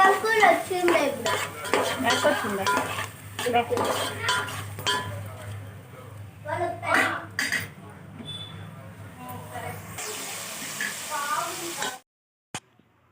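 Green chillies and spices fry in oil in a pan for masala rice, with frequent metal clatter and scraping as a utensil stirs them. Soft sizzling runs under the clatter and a faint voice at times. The sound cuts off near the end.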